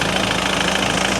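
An old car engine, restarted after nearly ten years off the road, idles evenly with a steady mid-pitched rumble and slight knocking texture, close and loud, with no voices.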